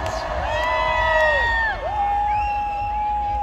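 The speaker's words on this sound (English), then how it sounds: "Fantastic crowd at Creamfields!" Festival crowd at Creamfields cheering and whooping loudly, a dense continuous roar of many voices with rising and falling shouts throughout.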